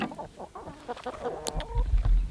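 Chickens clucking close by in a backyard coop on a winter morning, a few short overlapping clucks and calls from the flock over rustling and a low thump near the end.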